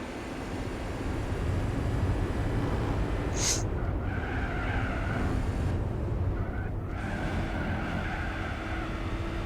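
A race car roars continuously in Gran Turismo 4, racing against a Saleen S7 with a steady loud engine drone, a sharp tire squeal early on and shifting pitch swells as it corners.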